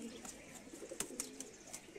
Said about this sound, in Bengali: এদিকে মেবি 50-60টা কবুতর একসাথে আছে।